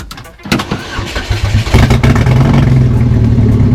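An LSJ engine installed in a Pontiac Fiero, not yet fitted with a cooling system, cranks with rapid rhythmic pulses for about a second, then catches and settles into a loud, steady idle heard close up from inside the car.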